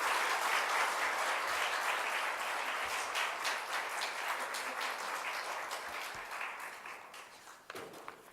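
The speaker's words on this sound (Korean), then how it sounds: "박수로 한번 환영하겠습니다" Applause from a church congregation at a Friday evening Holy Spirit service, welcoming the preacher: thick, many-handed clapping that starts strong and slowly thins, with a few distinct claps near the end.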